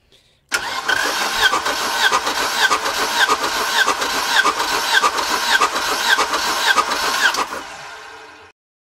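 Mercedes-Benz car engine cranking and catching after a rebuild in a workshop, then running steadily and loud for about seven seconds before cutting off abruptly.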